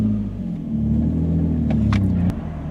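A heavily modified Nissan 350Z, recently repaired for an exhaust leak before the O2 sensors and for faulty fuel injectors, idles close by with a loud, steady low rumble and a slight rise in revs partway through.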